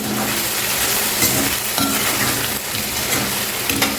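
Capsicum potato curry with garam masala and chili powder being stirred in a hot pan, a continuous close sizzle and frying hiss with faint scraping, no voices.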